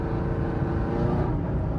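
A Chevrolet Camaro SS engine holds near redline from inside the cabin, a dense, steady low roar that never drops as if the gearbox refuses to shift, loud and continuous with no speech.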